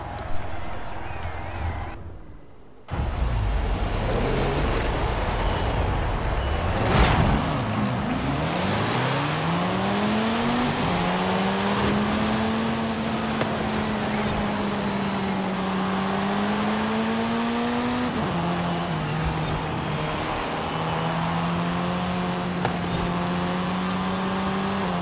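Racing video game engine audio, a race car revving up with rising and falling harmonic engine pitch, loud and continuous after a brief quiet gap, with a few shifts in tone as it accelerates.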